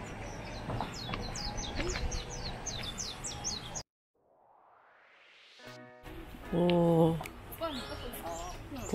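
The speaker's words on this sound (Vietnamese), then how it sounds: "Có tiếng chim hót" Birds chirp and twitter outdoors on Jeju island over a steady background of wind and ambient noise. A person speaks briefly, and after a short quiet gap louder calls and a mechanical whir come in.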